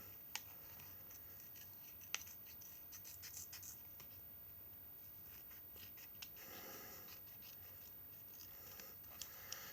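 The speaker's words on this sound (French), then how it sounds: "c'est des ciseaux que j'ai trouvé à la boutique de maquettes" Tamiya scissors from a hobby model shop snip along a cutout, producing crisp, close, quiet cuts with scattered sharp clicks over a faint steady background hum, and no voices.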